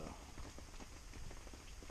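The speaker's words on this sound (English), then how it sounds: "Just sitting listening to the rain, relaxing a little while." Steady rain patters on a campsite, a soft, even hiss with scattered drops, faint and continuous with no voices.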